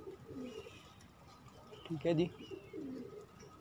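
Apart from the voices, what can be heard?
pigeons cooing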